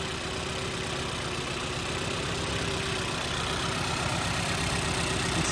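A car engine with a suspected head gasket problem idles unevenly and misfires, giving a steady, close mechanical rumble that fills the whole moment without a break.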